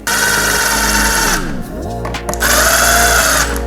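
Power tool driving 10mm bolts holding the fuel rail on a 2017+ Suzuki GSX-R1000, a close whine that spins down, pauses briefly, then revs up again, loud and steady.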